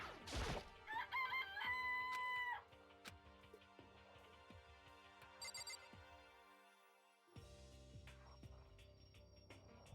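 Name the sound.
rooster crowing in Danganronpa video game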